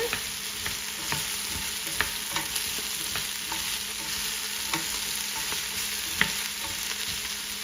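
Soup with potatoes and carrots stirred in a pot, a low continuous simmer broken by regular scraping knocks of the spoon against the sides, close and unaccompanied by speech.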